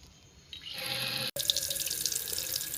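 Water runs steadily from a tap to fill refillable magic water pens, a hissing stream that swells louder, cuts off briefly, then resumes with a brighter splashing rush.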